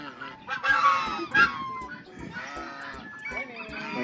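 Domestic fowl at a pet-friendly hotel in Tagaytay, honking and clucking in several loud, irregular bursts close by, with a voice murmuring in the background.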